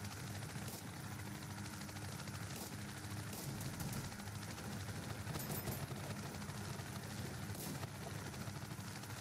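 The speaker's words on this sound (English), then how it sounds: "That's an enemy attack helicopter" An enemy attack helicopter in a combat video game thrums steadily with a continuous rotor drone, joined by scattered sharp bursts of distant gunfire.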